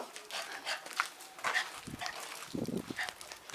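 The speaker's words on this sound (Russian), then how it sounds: "Боевая собака." A dog barks a few times at a distance amid faint background noise, the barks short and muffled.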